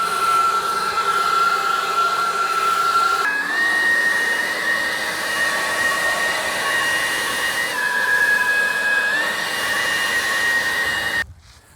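A SEYVUM 40-volt brushless leaf blower runs steadily at close range, a loud whirring rush with a high motor whine that steps up in pitch, dips and rises again before cutting off abruptly at the end.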